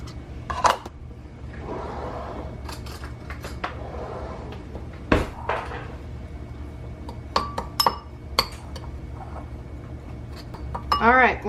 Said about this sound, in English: we're going to take a bowl and we're going to mix the brown sugar and the cinnamon together